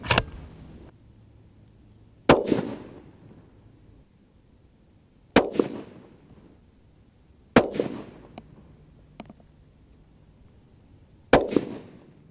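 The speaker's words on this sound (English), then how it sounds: "I'm going to try and shoot the best group possible" A Remington 783 Form Laminate Edition rifle fires five sharp, loud shots at a target group, spaced a couple of seconds apart, each with a short echoing decay, and no talk between them.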